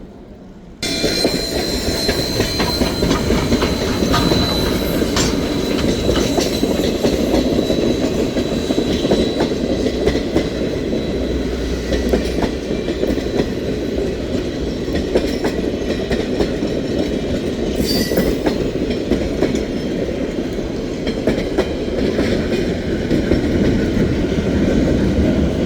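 A steam locomotive, number 142, rumbles steadily along the rails pulling its train, wheels clacking and grinding close by, with occasional squeals over a continuous heavy roar.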